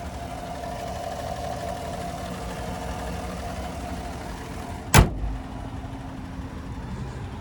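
A 2016 Chevrolet Silverado 1500 LTZ 4WD with a 5.3-liter V8 and about 91,000 miles idles with a steady low hum, heard close up, interrupted by one sharp thump midway before the even idle continues.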